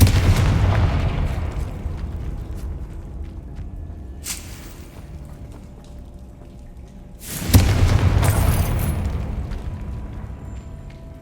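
Confringo fire spell blasts in Hogwarts Legacy on hard mode: two loud, broadband bursts with booming low rumble, one near four seconds and a stronger one past seven, over a steady game-ambience bed.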